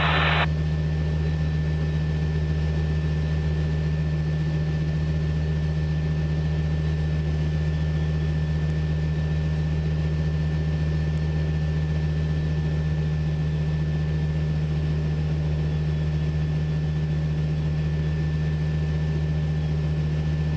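An R/C model airplane engine runs steadily at high RPM at the flying field, a constant loud drone with a strong low hum and a thin high whine held unchanged throughout.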